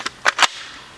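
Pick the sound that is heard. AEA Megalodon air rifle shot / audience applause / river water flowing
AEA Megalodon air rifle shot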